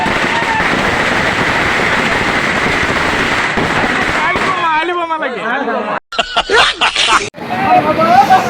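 Firecrackers burst at a wedding outside the bride's house, sharp pops and crackles ringing out one after another over a noisy crowd babble, with a few louder close blasts toward the end.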